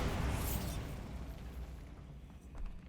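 The Bombarda blasting spell in Hogwarts Legacy sets off a short, heavy explosion. A deep boom bursts at the start and then fades into a rumbling decay over a few seconds.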